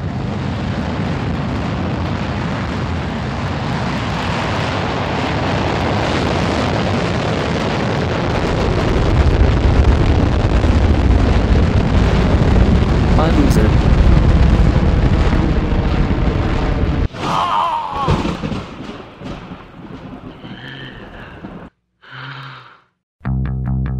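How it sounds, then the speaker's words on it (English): Reserve rocket launching on a flight to Mars, a loud sustained roar that builds and swells for about fifteen seconds, then breaks into choppy bursts and fades out near the end. "We launch the reserve rocket."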